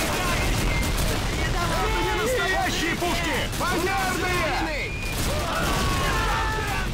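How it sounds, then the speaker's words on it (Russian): A German machine gun rattles in the Call of Duty 2 video game, bursts of gunfire and explosions continuing throughout amid battlefield noise, with someone speaking over the action. "там еще один фриц успел сесть за пулемет"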